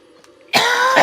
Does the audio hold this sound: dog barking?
no